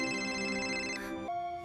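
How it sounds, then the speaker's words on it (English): A phone rings with a tonal ringtone, steady and fairly soft, cutting off near the end, with no voices over it. "Here, use my phone. It is ringing now."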